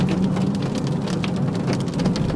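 Heavy rain with large drops pours down just before hail, caught outdoors on a trip out of town. A loud, steady, dense drumming continues unbroken throughout, with no voices.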